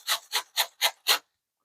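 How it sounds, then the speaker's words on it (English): An onion is grated by hand in five quick, evenly spaced rasping strokes, close and crisp, followed by silence. "I'm just going to go ahead and grate this into here as well"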